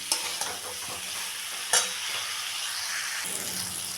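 Spiced potato masala for aloo dum being sautéed and stirred in a pan with slit green chillies and a pinch of sugar, a steady close sizzle broken by a few sharp scraping stirs, no voices.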